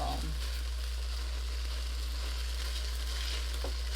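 Cheese fries in a non-stick pan with a constant soft sizzle, steady and close, under a low hum and no speech.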